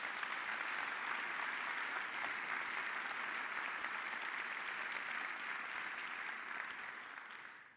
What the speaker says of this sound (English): We can give them a round of applause again.